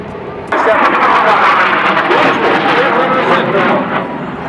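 Marine AH-1 Cobra attack helicopters fly past at an Andrews AFB air show, a loud, steady roar of engine and rotor noise that swells in abruptly and holds, with an announcer's voice faintly beneath.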